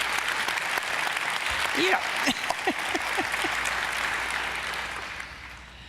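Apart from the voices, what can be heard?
audience applause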